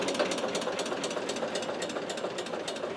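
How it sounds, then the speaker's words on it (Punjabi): A tractor engine runs steadily at idle, a close, continuous knocking diesel rumble with no break, carrying on evenly to the end. "ਟਰੈਕਟਰ ਕਰ ਦਿਓ ਬੰਦ,"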